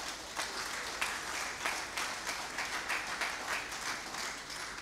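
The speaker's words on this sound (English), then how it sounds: "Can you clap for them?" An audience applauding at an awards dinner, a steady wash of many hands clapping throughout, heard from a distance at a fairly low level, with no talking over it.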